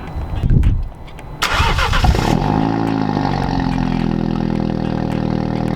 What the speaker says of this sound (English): that's a normal cold start that I like. Nice and loud